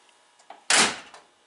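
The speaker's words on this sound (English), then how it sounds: "when you get a door that closes that nice" The door of a 1932 Ford sedan shuts with a single solid, close thunk, preceded by faint handling clicks and followed by a short fading rattle.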